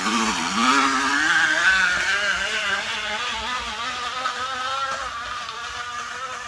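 Motorcycle engine revved repeatedly, rising and falling in pitch with a buzzing, whiny tone, steady and moderately loud throughout.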